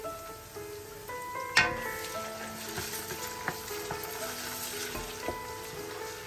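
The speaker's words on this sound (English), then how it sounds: "I'm going to add the tomato paste now to fry." Onions and tomato paste sizzle and crackle steadily in a hot pot, with occasional stirring clinks and a sharp pop, close and moderately quiet, no talking.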